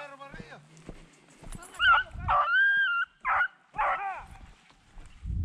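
Several beagles and greyhounds bark and yelp in sharp bursts, loud and close, during a rabbit hunt in Lolol, Chile, with shouting voices and scuffling around them.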